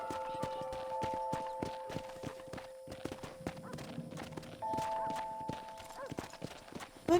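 Horse hooves clip-clop at a steady walking pace in the Western video game Red Dead Redemption, with repeated close, crisp strikes over a game soundtrack and a brief whinny, with a short spoken remark near the end.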